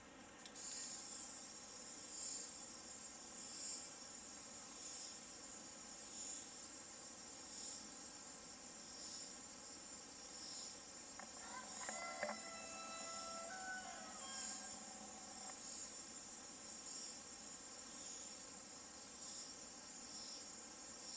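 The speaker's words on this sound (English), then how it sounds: "for spray painting, this is the proper way to do it" A steady hiss of spray painting an aquarium background runs throughout, pulsing in regular bursts about every second or so, with a faint squeak midway.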